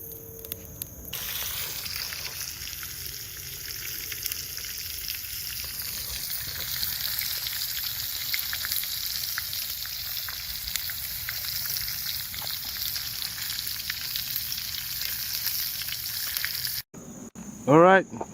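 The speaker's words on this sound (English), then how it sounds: "Sizzling bacon." Bacon sizzling in a pan over a campfire at a campsite, a steady bright crackle that fills nearly the whole stretch. It stays close and even, and a short high bird-like chirp sounds near the end.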